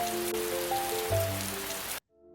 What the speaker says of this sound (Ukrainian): з'явилися перші краплі дощу